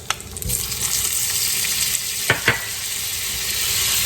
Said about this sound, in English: Going in with the same skillet, we're going to put 2 tablespoons of butter.